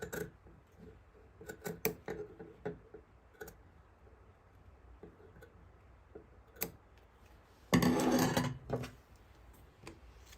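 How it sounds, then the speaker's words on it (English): Scissors snip through a fabric pocket along its center line while sewing, a scattered series of faint, sharp clicks and cuts with a louder rustling burst near the end. "we're gonna cut straight down the center all the way to the other diamond that we cut"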